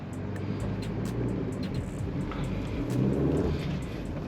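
Interior of a Maruti Suzuki Baleno pulling up an incline in first gear: a steady low engine drone under road rumble, swelling slightly toward the end, with faint ticking clicks above.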